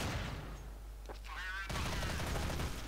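Gunfire from a FAMAS and an MP5 trades back and forth in a Counter-Strike match. Dense bursts of shots are loud and continuous, with a brief quieter gap before the firing resumes.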